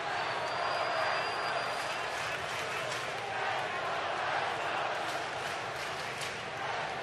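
A baseball stadium crowd during a White Sox versus Astros ALDS playoff game, a broad roar of thousands of fans building tension, with a sustained murmur and some cheering under the broadcast.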